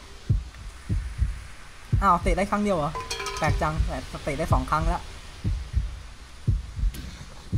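A heartbeat thuds in the Japanese horror game Yomawari: Night Alone, a steady series of low, close, muffled beats throughout, with someone talking over the middle stretch.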